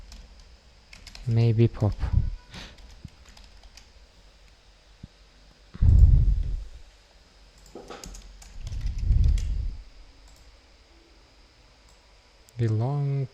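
Keys tapped on a computer keyboard while working on Flutter app development, a few scattered clicks mixed in under someone talking.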